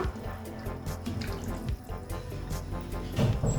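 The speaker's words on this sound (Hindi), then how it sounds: "बेफिक्र होकर पानी डालें, कोई मसला नहीं है" Water poured into a pot of mutton yakhni soup, a continuous splashing pour with trickling, gurgling texture, close and fairly steady, swelling briefly near the end.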